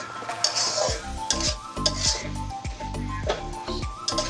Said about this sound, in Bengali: এই যে নাড়াচাড়া করে দিতেছি ঢাকনা তুলে